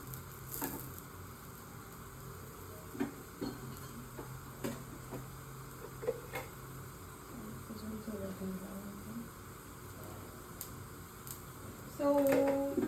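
A frankie roll sizzling faintly in ghee in a pan, with a soft steady crackle, scattered ticks and taps, and a louder clatter near the end.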